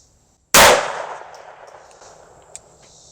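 A single sharp gunshot cracks out loud and close from a poorly shooting gun, its boom decaying over about a second, followed by quiet background and one faint metallic tick.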